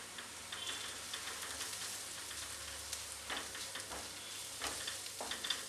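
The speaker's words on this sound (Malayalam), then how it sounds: "മുളകിൻ്റെ പച്ചച്ചു ഒന്ന് മാറുന്നത് വരെ ഇതൊന്ന് മൂപ്പിച്ചെടുക്കണം" Chili and coriander powder roast in a pan for a Kerala-style okra (vendakka) masala, giving a steady, close sizzle with occasional stirring scrapes and no voices.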